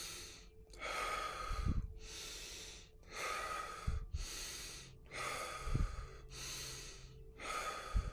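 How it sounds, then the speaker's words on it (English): Slow, deep breathing exercise for breath work: long drawn-out inhales and exhales repeat roughly every second and a half, close and fairly loud with soft throaty catches, and no talking. "deep breath work."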